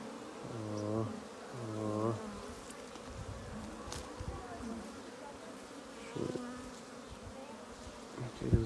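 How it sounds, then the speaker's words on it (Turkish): A dense, steady buzzing of a honeybee swarm close by, being moved into a hive, continuous throughout with a few faint thumps and distant voices. "Arı oğul olduğu için hem sakin hem de çok saldırma eğilimde bulunmuyorlar zaten"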